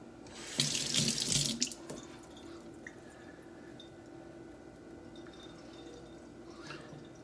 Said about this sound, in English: I'll wash the slurry off